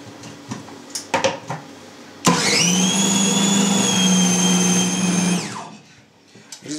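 A food chopper grinds sausage meat mince with added water into a smooth emulsion for Lubitelskaya sausage: after a few clanks it roars up suddenly into a loud steady whine for about three seconds, then winds down, close by.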